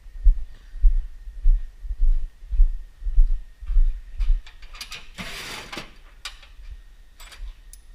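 A small 8mm bolt is fastened on a Honda CBX 750F motorcycle under restoration, with a run of rhythmic ratchet clicks and low mechanical thumps followed by a few brighter metallic taps and scrapes, close by and without talk.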